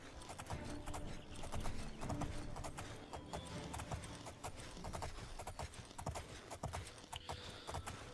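Horse hooves gallop in The Elder Scrolls IV: Oblivion, a rapid steady clip-clop of a ridden horse with a faint neigh mixed in, quiet but continuous with no talking.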